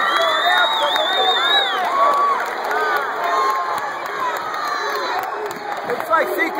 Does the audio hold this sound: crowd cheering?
yes